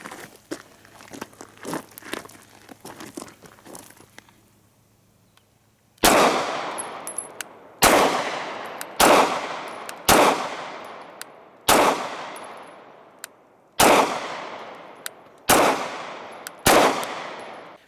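Canik TP9 9mm pistol fired outdoors, nine loud, sharp shots at uneven intervals of one to two seconds, each ringing briefly. Quieter handling clicks and rustling come before the first shot.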